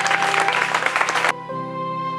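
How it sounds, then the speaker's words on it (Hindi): A crowd claps for schoolchildren at an Independence Day celebration at Saharanpur Public School, a dense burst of applause for about a second and a half that cuts off abruptly, leaving a steady tonal hum. "एक जोरदार तालियां सारे बच्चों के लिए"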